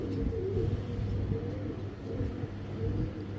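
Pigeons kept in a loft for sale, including Silver and other named breeds, coo in low, soft, repeated rolling calls that overlap continuously across the span, near and moderately loud, with no speech.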